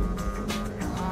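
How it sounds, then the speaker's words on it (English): A Honda Civic Type R EK9 engine runs at nearly full throttle in third gear through an S corner, a loud, sustained high-revving drone with a slight waver over a brief moment. "I can go through the S corner at almost full throttle in third gear."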